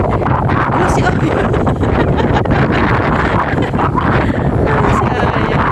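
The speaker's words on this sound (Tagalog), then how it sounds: "Sarap na hangin." Strong wind blowing outdoors at a house construction site, roaring steadily against the microphone as a loud continuous rush with no break.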